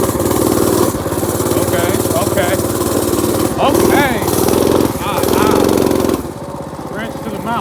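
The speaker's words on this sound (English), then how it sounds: "Try to get up this little incline. See what this little bike do." A small mini bike engine strains up a little incline, its buzzy motor revving and dipping in bursts, close and loud, with a brief spoken word over it.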